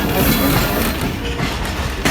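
A train pulls out of Saddar railway station in Peshawar, Pakistan, its steady rumble and rolling wheel noise filling the scene up close, with a louder thump near the end.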